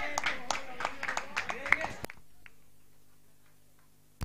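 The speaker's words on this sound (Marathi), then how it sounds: "जोरदार जोरदार टाळ्या." Rhythmic clapping at a local cricket tournament's man-of-the-match presentation, about two seconds of steady claps mixed with a voice before the sound drops off to near silence.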